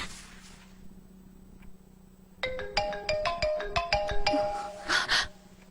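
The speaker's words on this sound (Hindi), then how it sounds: "पापा, पूजा, इतनी रात को फोन उठाओ" A mobile phone ringtone sounds late at night for an incoming call, a bright repeating electronic melody that starts partway through after quiet room tone and plays loudly in short pulsing notes.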